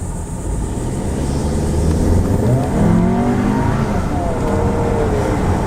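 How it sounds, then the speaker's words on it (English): A Volkswagen Atlas 2.0-liter engine accelerating hard with the window down, a loud sustained engine roar rising in pitch as the car pulls, heard from inside the cabin with road noise underneath. "I'm just mashing the gas and feeling the thrust of that 2 liter"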